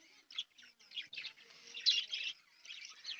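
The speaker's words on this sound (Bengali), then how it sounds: "এই ঘটের একটা বাচ্চা ওই ঘটে ঢুকে গেছে, ওর জন্য ওরকম ডাকছে তখন থেকে" A budgie chick in a cage calls repeatedly with high, raspy chirps in quick irregular bursts, close by and fairly loud, other birds faint behind.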